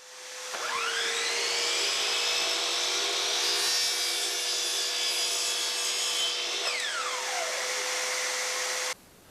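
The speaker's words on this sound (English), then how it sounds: "stand my baseboard up and turn my miter saw to the left 45 degrees. Then I'm going to make a cut" A miter saw cutting wooden baseboard at a 45-degree angle: the motor whines up to a high pitch, holds a loud steady cutting roar for several seconds, then winds down, with no talk.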